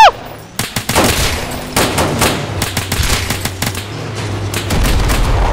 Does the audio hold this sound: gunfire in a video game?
yes